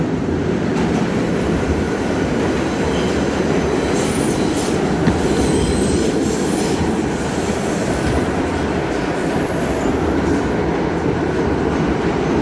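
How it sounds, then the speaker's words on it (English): A New York subway E train rolls past at close range, a loud continuous roar of wheels on rails with faint metallic squeals over the top, steady throughout with no talking. "Look at this E-train go."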